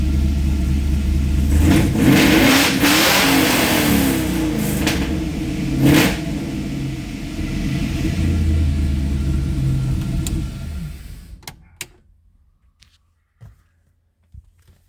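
Cold-started engine fitted with a Summit 8707 cam and 102mm intake revs loudly and close up in bursts, a rough rumbling idle between blips, before cutting off abruptly near the end, leaving near silence with a few faint clicks.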